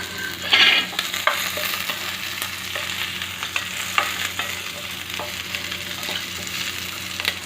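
Garlic and curry leaves fry in a hot pan with a steady crackling sizzle, broken by scraping stir strokes and a few sharp pops, close by and without talk.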